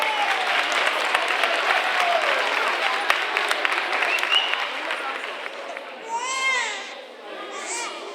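Loud applause from a crowd at a school Halloween festival fills the room, with voices and a child's cry breaking through as the clapping fades.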